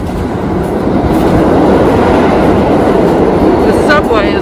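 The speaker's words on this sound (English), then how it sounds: "That's the trains you hear rumbling by." New York City subway trains rumble continuously beneath a snowy street, a dense, loud low roar with faint rail squeals near the end.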